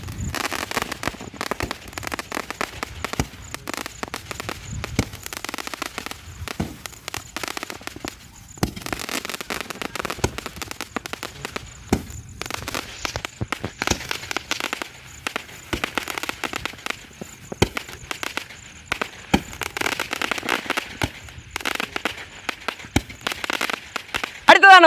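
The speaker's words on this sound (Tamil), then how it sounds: "அடுத்து நம்ம இந்த பீகாக் டான்ஸுங்கிறது 30 ஷாட் தான் கொளுத்த போறோம்." A Sivakasi Peacock Dance 30-shot Diwali firecracker goes off in a long, dense barrage of crackling bursts and pops, loud and continuous with a few brief lulls, and a voice can be heard faintly between the blasts.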